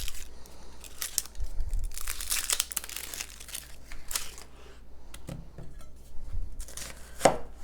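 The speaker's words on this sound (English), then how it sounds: "Cut our onion in half." A kitchen knife chops and dices an onion on a cutting board while making salsa: irregular crisp thunks and bursts of quick strokes, mixed with papery crinkling of onion skin, close and fairly loud, no talking.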